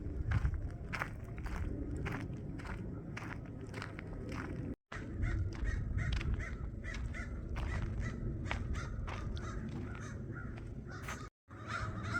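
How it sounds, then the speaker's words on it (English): Crows caw repeatedly in a loud, overlapping flock, close by and steady throughout, with footsteps crunching beneath and two brief dropouts; outdoors along a river bosque, no talk. "what is going on with those crows?"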